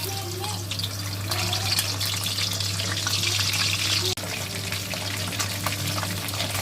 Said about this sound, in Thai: น้ำมันร้อนได้ที่นะคะเอาปลาเนื้ออ่อนลงไปทอดนะคะ